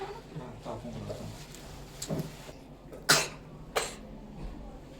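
A few sharp, abrupt coughs stand out over quiet background noise and faint talking, spaced about a second apart toward the end.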